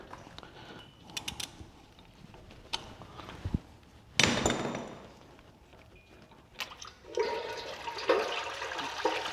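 Engine oil pours from the 22 mm drain plug of a Ferrari 458 into a catch pan, a close, hissing liquid rush that starts suddenly and keeps running, with scattered metallic clicks and taps of tools around it.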